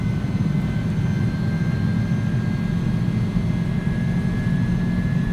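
Steady, loud roar of an A300-600F freighter's jet engines at takeoff power in the X-Plane 11 flight simulator, a constant broadband rumble with a faint high whine and no speech.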